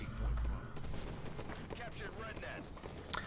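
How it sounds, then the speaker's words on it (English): DMR rifle fire in a competitive video game match, scattered gunshots and bursts under continuous excited commentary, moderately quiet behind the voice. "Gold Payloader using that DMR."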